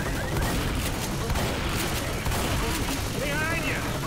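Gunfire in Left 4 Dead, a continuous loud rattle of shots layered with chaotic game noise and shouting voices throughout.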